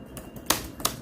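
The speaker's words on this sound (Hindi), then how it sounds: "यहाँ पे एक MS वर्ड मैंने खोला हुआ है और इसमें मैं टाइप कर रहा हूँ" A laptop keyboard is typed on while entering text in MS Word: a few sharp, close key clicks, two prominent strikes and a softer one, with quiet gaps between.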